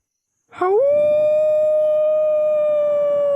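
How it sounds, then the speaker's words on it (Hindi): A single long canine howl, dog or jackal, rises sharply and then holds one steady mournful tone. It is loud and sustained against an otherwise quiet night. "कहीं दूर कुत्ता या सियार रोया"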